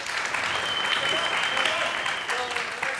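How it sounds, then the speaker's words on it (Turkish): A studio audience on a Turkish family quiz show applauds a contestant: dense, steady clapping fills the whole stretch at an even level, with a few voices mixed in. "Bir moral alkış Ömer'e."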